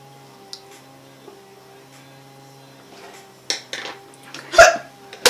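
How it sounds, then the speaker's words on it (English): A single sharp human hiccup pops out of a quiet room, preceded by a few scattered clicks and small noises, with a faint steady hum underneath. "Was that a hiccup? It was."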